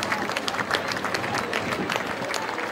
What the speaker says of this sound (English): Let's have a huge round of applause for Jersey.